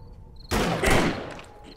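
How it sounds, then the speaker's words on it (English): Video game gunfire from a shotgun fired at zombies in 7 Days to Die, a loud sudden blast with a brief decaying roar, alone. "We might as well start shooting."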